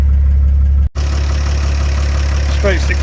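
A 1953 Chevrolet 6100 flatbed truck with a straight six engine idles steadily, a loud deep even rumble that dips in a brief gap and resumes, with a faint higher squeal near the end.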